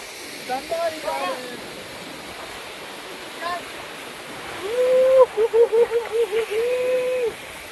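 Hebbe Falls near Kemmangundi sends up a continuous broadband rush of falling, splashing water, with spray reaching the viewers. People talk over it at moderate distance in several short bursts.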